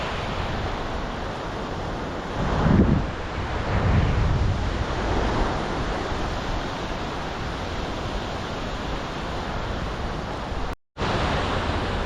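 Waves washing onto a sandy beach at Sihanoukville, Cambodia, with steady wind buffeting the microphone; surf surges swell around a few seconds in, no voices, and the sound drops out briefly near the end.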